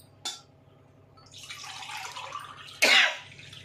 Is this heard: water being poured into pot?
yes